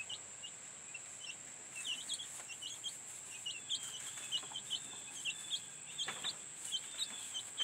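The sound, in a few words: chickens clucking inside a van converted to a coop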